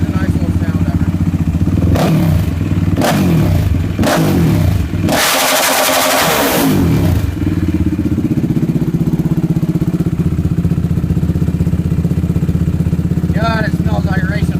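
A Suzuki LTR450 quad engine idling close by, blipped through several sharp revs that rise and fall before settling back into a steady, loud idle, with a brief voice near the end.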